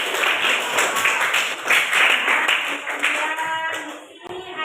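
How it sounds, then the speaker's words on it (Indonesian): Students in a classroom clap for two classmates, a lively burst of mixed hand claps that is fairly close and fades out after about four seconds, ending with a short voice. "Oke, tepuk tangan untuk mereka berdua."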